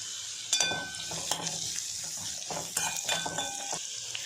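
Grated coconut and tamarind roast in a pan with a continuous dry sizzle, interrupted by close scraping and clinking of a utensil against the pan a handful of times, with no talking.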